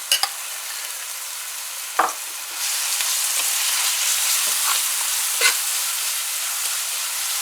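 Curry paste fries with onions in a pot as a loud, continuous sizzle. Sharp scraping stirs land at intervals, and the hiss swells stronger partway through.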